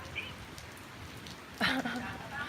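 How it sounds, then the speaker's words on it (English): Rain falling in Guam makes a steady soft hiss across the whole clip, with a brief louder spatter or voice-like sound midway. "Guam rain. It's a thing."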